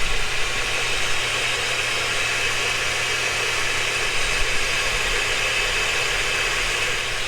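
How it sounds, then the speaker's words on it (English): A burr grinder bit grinds steadily on a 1937 Studebaker President part in a machine shop, producing a continuous, even, high whirring drone without pauses or speech. "the last step is to hit it with this burr grinder bit"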